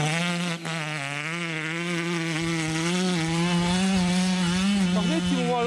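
A 3-horsepower chainsaw engine in a 1/5-scale RC monster truck runs steadily with a high buzzing drone, close by and loud, its pitch wavering slightly as the throttle shifts.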